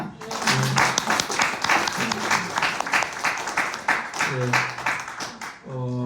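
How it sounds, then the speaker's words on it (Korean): Audience applause at a book talk for a collection on English and American poetry, steady clapping filling the room throughout, with voices and harmonic speech sounds breaking in over the top near the end. "박수 한번 쳐."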